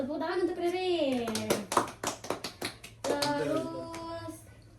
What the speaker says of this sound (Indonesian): Tepuk tangan untuk Ririn.